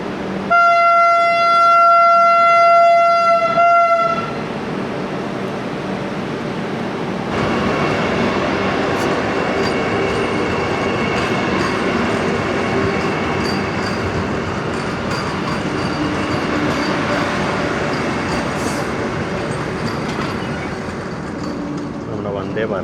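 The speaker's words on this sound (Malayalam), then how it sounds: "വന്ദേ ഭാരതം അങ്ങനെ പോയി" A Vande Bharat express train passes close by on an Indian railway line, opening with a loud, sustained horn blast and followed by a long, steady rumble and clatter of passing coaches, with people talking underneath.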